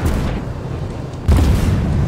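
Tank cannon fire in World of Tanks, as an Object 225 trades shots: two heavy booming blasts, the second a sharp loud onset about midway, each trailing into a rumbling decay.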